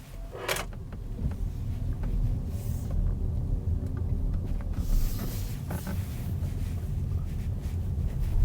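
Cabin of a 2021 VW ID.4 Pro AWD electric car pulling away, with a steady low road rumble and soft wind noise throughout, a brief click near the start, and faint rattles of loose cargo.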